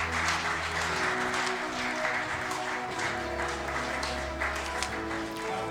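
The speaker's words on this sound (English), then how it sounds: "Big round of applause for Unique Info Solutions, please." An audience at an awards ceremony applauds continuously, a dense wash of many hands clapping at moderate distance, with a faint voice underneath.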